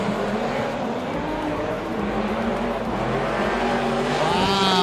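Drift cars race on a track, a V8 engine bouncing off its rev limiter with steady, loud, rising engine harmonics and a sustained roar throughout, sounding fairly close.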